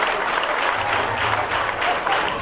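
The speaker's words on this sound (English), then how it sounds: "Jonalyn won the gold in her category with the crowd cheering her on." A stadium crowd at a Palaro sports event cheers and applauds a gold-medal winner, a steady dense wash of clapping and cheering at constant loudness throughout.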